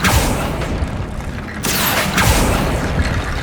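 A Confringo blast spell from the game Hogwarts Legacy bursts loudly, two heavy explosive booms with crackling debris over a dense, roaring backdrop.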